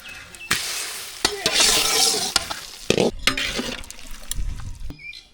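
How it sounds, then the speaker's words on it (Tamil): Tempering being stirred in a pan for white sambar, close and loud: bright sizzling and frying crackle with repeated scraping stir strokes over about five seconds, no talking. "தாளிப்பு இறக்கி அது கூட சேர்த்துக்கலாம் தள்ளி போட்டால் கிண்டி விட்டு தள்ளி விட்டுடலாம்"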